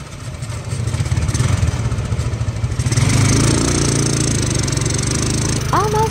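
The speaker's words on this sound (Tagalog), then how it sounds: "We ride a tricycle right away." A motorized tricycle's small engine runs steadily with a rattling, chugging drone, getting a little louder midway, and a brief squeaky chirp near the end.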